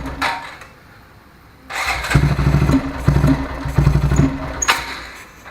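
A Honda Grom motorcycle engine is cold-started, catches after a brief pause, and settles into a loud, lumpy, pulsing idle close by.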